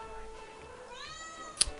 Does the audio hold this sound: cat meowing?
yes